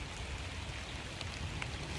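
Rain falls on leaves and bare dirt, a faint, steady hiss of drops with soft low patter throughout, with no voices.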